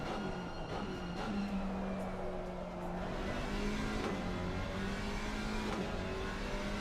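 Alpine GT4 race car engine in a racing video game at Bathurst, a steady droning rev that climbs slowly in pitch, loud and continuous with no talk.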